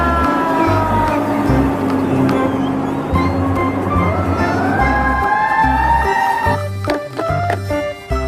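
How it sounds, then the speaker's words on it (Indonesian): A toy fire truck plays a repeating electronic siren that warbles up and down, loud and close, with clicks and handling noises. "Mobil truk pemadam kebakaran,"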